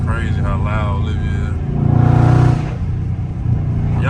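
A catless Dodge Scat Pack's loud exhaust drones steadily and then swells into a brief roaring burst before easing off, heard from inside the car with someone talking.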